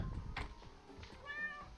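Cat in the video game Get Packed giving a short meow near the end, faint under rumbling game noise and thumps.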